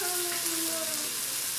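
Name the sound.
chicken frying in pan while being turned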